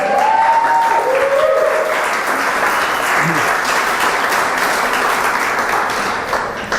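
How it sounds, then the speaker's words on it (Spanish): Loud, continuous applause from a church convention congregation, a thick wash of many hands clapping, with brief vocal tones rising above it early on and near the middle. "Dale un fuerte aplauso"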